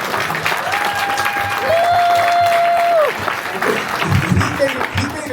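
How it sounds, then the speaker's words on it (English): A panel audience at a fan convention applauds for a cast member in a steady, loud wash of clapping, with a voice heard over it and cheering toward the end. "he deserves a round of applause"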